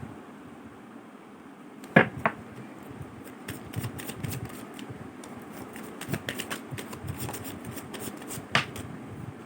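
A deck of tarot cards being shuffled by hand, with soft riffling and flicking card noises and a few sharper slaps, close and moderately quiet over a low room background.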